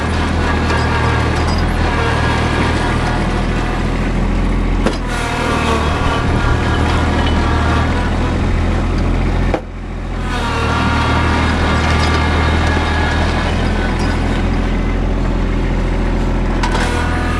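A tractor pushes snow along a gravel drive with a rear blade, its engine droning steadily and loudly up close with a brief dip partway through and a low scraping rumble underneath.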